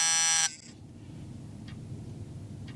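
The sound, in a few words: HM 552 turn signal flasher relay buzzer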